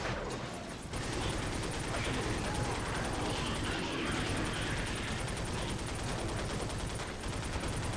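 Rapid, dense dual-pistol gunfire from the video game Darkwatch, sustained and loud for several seconds with a brief pause partway, close and continuous.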